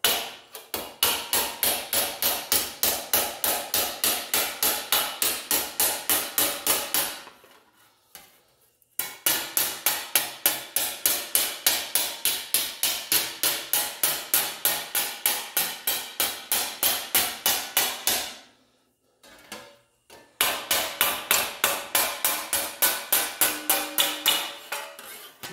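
Steady rapid hammer blows roll a sheet metal edge over a homemade T-dolly clamped in a vise while repairing a rusty trunk floor on a 1960s GM car, in three long bursts separated by short pauses, close and loud.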